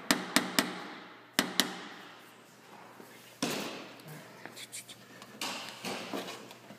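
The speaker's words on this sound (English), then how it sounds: "The tapper I'm using is a special plastic that is sand it down so it doesn't mar the paint." Sharp, close taps of a sanded plastic tapper knocking out a dent in a car hood, several quick strikes in bursts followed by scrapes and softer knocks.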